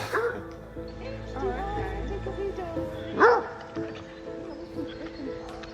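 Large dogs bark and yip at a house, with one sharper, louder bark standing out midway over a steady muddle of background noise and low voices.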